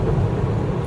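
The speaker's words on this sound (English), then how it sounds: "we're driving the truck down there" Steady, rumbling engine and road noise from a truck driving toward a river, a continuous low drone throughout.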